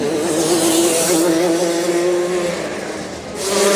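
A racing kart on an icy winter track at Whilton Mill whines past through the final corner, its engine note loud and high, wavering and dipping briefly before rising again.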